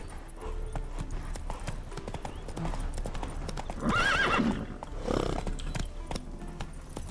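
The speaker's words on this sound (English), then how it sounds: "Spooking my horse. Roach doesn't like ghosts." Hooves clip-clop steadily from a horse in The Witcher 3, with a loud whinny rising around the middle and a shorter neigh following, all against game ambience.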